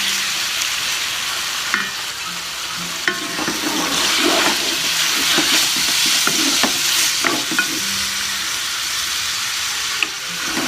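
Pork for Ilocano-style igado sizzles and fries in a pan with onions, a steady crackling hiss broken by the scrape and clatter of stirring.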